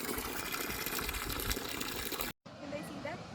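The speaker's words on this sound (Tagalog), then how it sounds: "Ang sarap magugas ng kamay." Cold water runs steadily from a tap over hands being washed at a hotel in Wissembourg, France, a loud continuous gush that stops abruptly, followed by quieter room sound after a brief silence.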